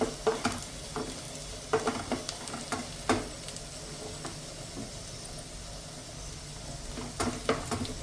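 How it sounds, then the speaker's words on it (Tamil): Onions sauté in a pan for a palak egg masala gravy, a continuous close sizzle broken by repeated spatula scrapes and knocks against the pan, with no talking. "நல்லா ப்ரௌன் கலர் ஆகிற மட்டும் வெங்காயம் நம்ம வதக்கிக்கலாம்."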